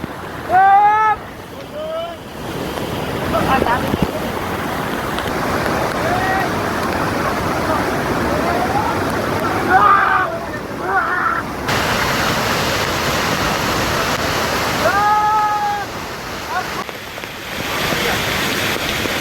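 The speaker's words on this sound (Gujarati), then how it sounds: "ફૂલ વરસાદ આવે છે" A loud, steady roar of heavy rain pours down throughout at Jatashankar Mahadev temple in Junagadh, with a few brief whistling tones cutting through the downpour.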